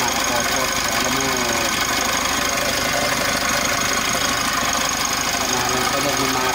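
A Mitsubishi L300 Euro 4 engine idles steadily and loud at close range, with a continuous mechanical whir from a worn alternator bearing running throughout.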